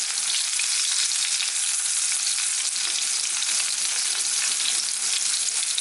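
Steak sizzles loudly in butter in a hot pan right after being flipped, an intense, unbroken crackling hiss heard up close with no speech.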